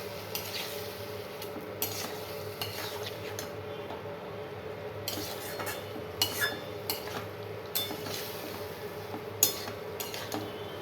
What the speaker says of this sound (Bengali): চলো অল্প অল্প করে দিই, মশলাটার সাথে মেশাই।